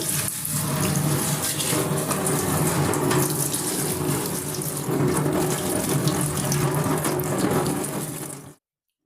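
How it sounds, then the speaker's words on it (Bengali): Tap water runs steadily into a kitchen sink while flowers from a vase are rinsed under it. The rushing splash stays loud and continuous, then cuts off abruptly near the end. "ফুলগুলো ধোয়ার সময় পাচ্ছি না এক দুইটা অন্তত ধুয়ে দিই"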